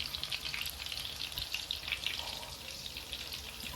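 Sea bass fish balls stuffed with kashar cheese frying in hot oil, giving a soft continuous crackling sizzle with small popping bursts, close and moderately quiet, with no talking.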